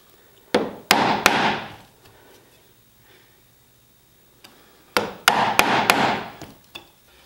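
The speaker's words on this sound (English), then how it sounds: "this Wenge is some pretty dense stuff, so it's definitely not an easy task to pare it off" Hand-paring dense wenge wood to square tenon corners brings two clusters of sharp, loud mallet-on-chisel strikes, three or four hard knocks each, split by a quiet pause; close up, with no talk.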